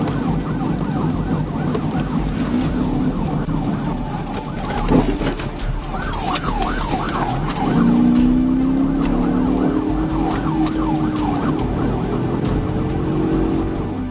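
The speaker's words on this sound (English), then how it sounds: "Officers activated emergency lights and sirens" Police car sirens wailing loud and close during a high-speed pursuit of a Ford Fusion on a highway, with a steady looping yelp over road and engine noise.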